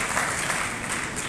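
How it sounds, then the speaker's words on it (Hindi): Audience applause at a welcoming ceremony honouring an Olympic athlete: a steady wash of many hands clapping, moderately loud and continuous throughout, with no talk on top. "ताली तो बजती होनी चाहिए"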